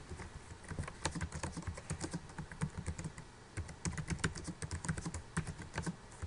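Someone types text on a computer keyboard, producing close, rapid and uneven clacking keystrokes in quick bursts with brief pauses throughout, with no voice.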